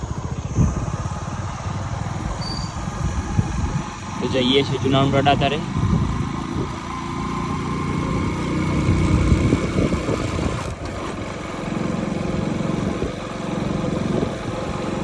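A motorcycle engine idles and then rides off along a village road toward a highway, its low droning rising and falling while someone talks over it.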